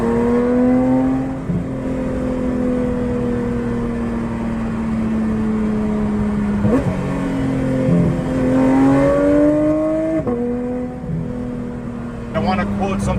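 A Porsche 992 GT3 with a Dundon exhaust drones at high revs as it accelerates, with several gear changes shifting the pitch as it pulls hard and climbs again, while a voice talks over the engine.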